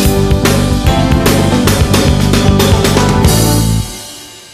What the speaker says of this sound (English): That's the shuffle, one version.